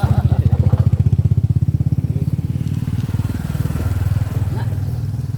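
A nearby motorcycle engine idles and runs with a steady low throbbing pulse, loud and continuous throughout, while people talk over it.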